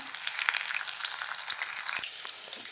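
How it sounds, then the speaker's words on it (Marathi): Onion, green chillies and curry leaves sizzle steadily in hot oil for a tempering, a dense crackling hiss that runs throughout with a few sharper pops, close by and with no voices. "त्यानंतर आपण कांदा घालणार आहे आणि सोबत थोड्याशा मिरच्या कढीपत्त्याची पाने"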